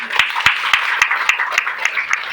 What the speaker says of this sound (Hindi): इसके लिए ताली होनी चाहिए